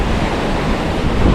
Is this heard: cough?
no